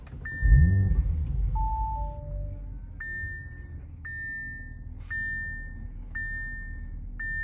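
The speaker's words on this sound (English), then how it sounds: "In order to start the RS5, all you have to do, put your foot on the brake and hit the console mounted button to go" A 2019 Audi RS5 Sportback started with its console push button, giving a short rising rev that settles into a low steady idle, with a string of electronic chime beeps sounding over it.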